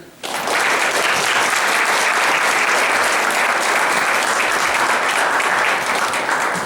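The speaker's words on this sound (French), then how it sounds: "à qui je laisse la place maintenant sous vos applaudissements" An audience at a 2020 municipal election rally in Saint-Genis-Laval breaks into loud applause that swells quickly after a quiet moment and holds as a dense, continuous roar of clapping.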